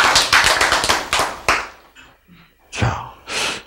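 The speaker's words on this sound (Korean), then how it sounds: "박수가 쉽게 나오네요." A short burst of quick audience clapping at a Korean health lecture, a run of sharp close claps that breaks off after about a second and a half, followed by scattered breaths and brief sounds.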